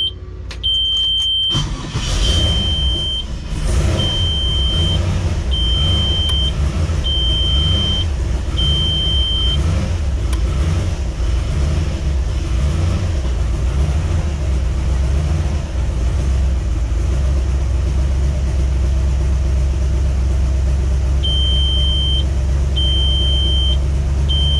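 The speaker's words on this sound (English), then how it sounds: "Let's go ahead and do a cold start and see what our oil pressure is at the turbo." Cold start of a turbocharged LS engine: the starter cranks briefly, then the engine catches and settles into a loud, steady, rumbling idle close by, with intermittent electronic beeping chimes at the start and end.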